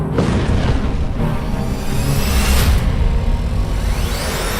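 An anti-tank missile strikes an Israeli Merkava tank at a border point, producing a loud booming explosion with whooshing rush and sustained roaring rumble that swells again midway.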